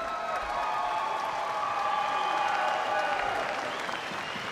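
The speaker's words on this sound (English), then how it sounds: "Round of applause for both these fighters" Sustained applause and cheering fill an arena after a three-round 75kg kickboxing bout, a dense, steady roar of many clapping hands with whistles and shouts ringing through, loud and continuous throughout.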